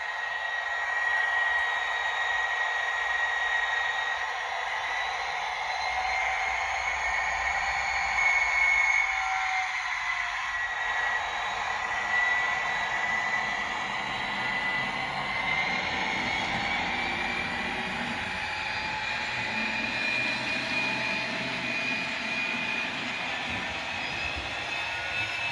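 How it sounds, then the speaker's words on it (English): A Bachmann class 57 Freightliner model diesel locomotive with a sound decoder runs with a steady droning engine hum and faint tonal whines, a long continuous idle-like rumble with no talk. "There is a quick sound demonstration of the Bachmann class"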